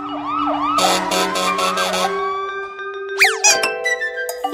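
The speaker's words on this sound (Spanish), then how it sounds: "El camión de bomberos." A fire truck siren wails briefly, then gives way to loud blaring bursts and a sharp rising sweep with bright chimes.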